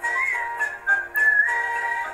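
A person whistles a bright rendition of "Whistle While You Work" from Snow White up close, with sustained notes and brief gaps between phrases, and no talking.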